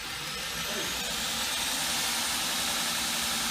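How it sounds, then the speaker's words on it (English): A variable-speed grinder runs steadily at low speed, giving a continuous close motor drone with a rough, even texture throughout. "this one being a variable speed, we can turn it right down to the speed of a file, speed of a sander"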